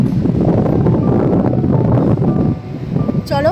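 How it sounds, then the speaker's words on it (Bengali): Strong wind gusts buffet an open-air spot in the evening, a loud, rumbling roar that stays steady and then eases briefly before picking up again, with a faint voice near the end. "এখন ভালোই হাওয়া দিচ্ছে।"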